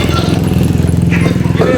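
A motorcycle engine runs with a steady low throb close by, with people talking over it throughout.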